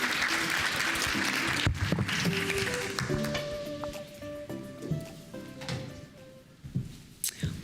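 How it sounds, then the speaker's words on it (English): Evening audience at a dairy ambassador competition applauds for the contestants, a loud burst of clapping that thins out while music and a voice continue. "Can we give another round of applause for our contestants this evening?"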